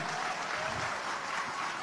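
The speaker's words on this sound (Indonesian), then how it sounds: "Bapak Ibu sekalian tepuk tangan untuk Pak Anies Baswedan." An audience at an Indonesian public talk applauds for Anies Baswedan, giving a dense, even wash of clapping that holds steady and moderately faint for its short duration.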